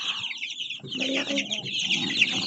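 Chicks on a farm peep in a dense, continuous chorus of high chirps at night, with some lower clucking and a faint voice beneath.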